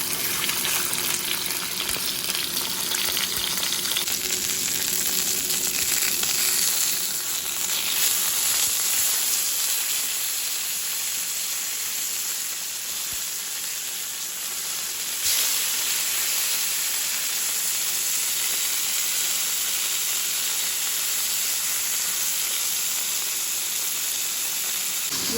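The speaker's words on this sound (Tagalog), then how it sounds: "magluluto na ako ng sauce, olive oil" Olive oil sizzling steadily in a pan while sauce is being cooked, a continuous hissing, watery crackle held close and fairly loud throughout, with no talk.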